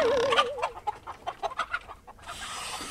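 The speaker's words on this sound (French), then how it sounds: "Dans une petite cage comme ça. 5 poules." Five hens packed in a small battery cage cluck and squawk close by, a rapid series of short bursts with a higher cackle at the start, followed by a brief hush and a rise of background noise.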